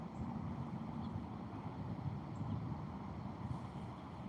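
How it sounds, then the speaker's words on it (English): Steady wind rumbles faintly against the microphone while catfish fishing, a constant low blustery noise with no pauses. "Pretty windy, though."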